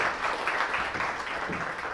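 Steady, dense applause from a comedy show audience as the first audience member is welcomed up onto the stage, filling the whole moment without any talk over it.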